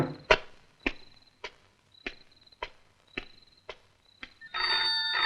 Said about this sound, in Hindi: टेलीफोन?